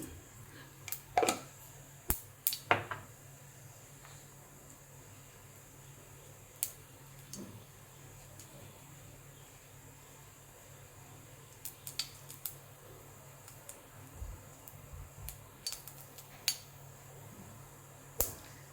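Scattered pops and crackles, sparse and irregular, spatter over a quiet low hum of a stove as mustard seeds burst in hot oil in a pan.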